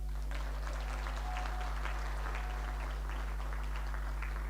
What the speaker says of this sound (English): please keep clapping until she comes